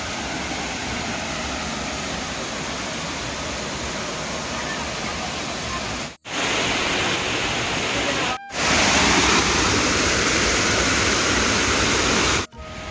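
A waterfall rushes in a loud, steady wash of broadband noise, close by, with a few brief cuts in the sound.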